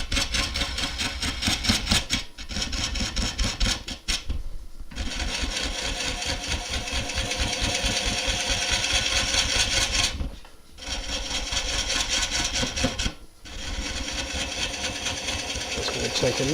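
A wood gouge cutting a Monkey Puzzle end grain bowl on a lathe: a loud, continuous rough rasping drone with fast fluttering chatter, broken by a few short pauses where the cut stops.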